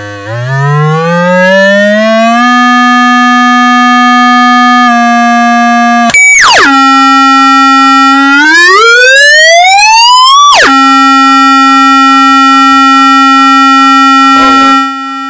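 A signal generator's loud steady tone driven through a PAM8403 class D amplifier, sweeping up and holding pitch, with abrupt jumps and a rising glide, continuous for about fifteen seconds with no voices.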